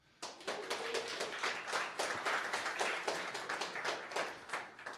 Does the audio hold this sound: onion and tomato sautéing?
no